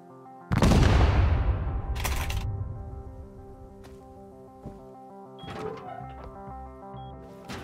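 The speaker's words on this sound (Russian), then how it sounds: "Это мой дом бахают." Explosions boom as a house is raided in the game Rust: one heavy blast with a long rumbling decay, a second sharp burst, then scattered thuds and clicks over a faint tonal background.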